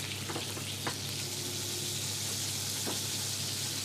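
Chicken roulade sears in a pan over medium heat, a steady close sizzle running throughout with a few faint clicks and scrapes.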